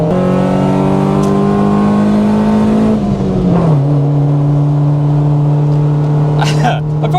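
A VTEC-swapped Honda Civic engine revs hard on a lap of the Nurburgring, a loud sustained drone that climbs in pitch, drops sharply on a shift near the middle, then holds steady, with a person talking over it.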